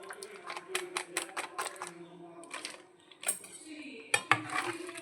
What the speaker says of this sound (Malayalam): നമ്മളെ ഈ പ്ലാസ്റ്റിക് ഇതിലൊന്ന് കഴുകിയെടുക്കട്ടെ